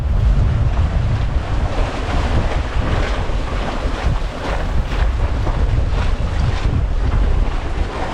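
Waves and strong wind buffeting a MacGregor 26 sailboat under sail in open water off the Florida Keys, a loud continuous rushing wash with heavy wind noise on the microphone throughout.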